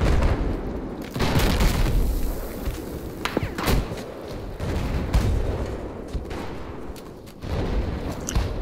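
Abrams tank cannon fire in Battlefield 4 on Caspian Border, with repeated heavy booming shots and thuds over a constant rumble of battle noise, loud and close.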